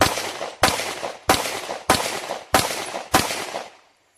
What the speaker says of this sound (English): That was 500 rounds through the Palmetto State Dagger.